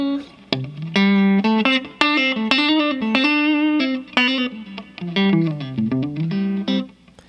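Guitar strummed with a pick in quick down and up strokes, bright chords with some notes muffled, a rhythmic run of chunky strums with short gaps.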